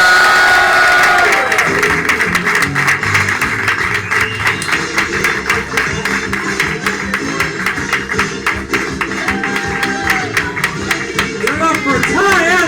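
A studio audience applauding and cheering as two competitors come onstage, dense loud clapping with whoops throughout, mixed with music and voices.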